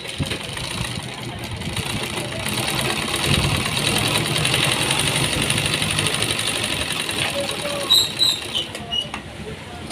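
A sewing machine stitches a dabba neck blouse design, its motor whirring steadily at close range with small clicks and shifts of speed toward the end.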